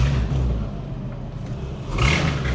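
A Porsche Cayman GT4 with an exhaust leak idles close by, a low rumbling engine drone with a rough, ticking edge and a slight rise near the end.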